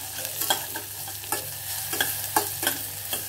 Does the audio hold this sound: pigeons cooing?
no